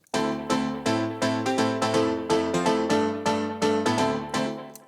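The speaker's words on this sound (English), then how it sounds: "A straight 8th delay." Piano chords in a UK house style repeat in a steady, even pulse through a straight eighth-note delay, each strike followed by evenly spaced echoes, with no voices.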